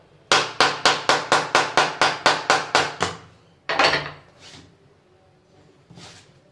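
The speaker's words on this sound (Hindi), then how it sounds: "अगर आपके पास प्लास्टिक की हथौड़ी है, एक ये होती है, इसे तो हम इसी साइड से मार सकते हैं" A plastic hammer strikes an RO water purifier filter housing in a fast, even run of about twelve sharp, loud knocks, followed after a pause by one heavier hit and a couple of fainter taps.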